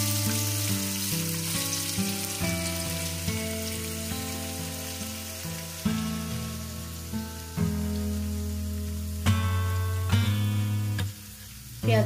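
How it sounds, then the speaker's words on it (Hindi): Onions are frying in hot oil with a continuous crackling sizzle, close and fairly loud, partly masked by tonal music playing throughout. "ऑयल गर्म हो गया तो इसमें डाल देंगे प्याज"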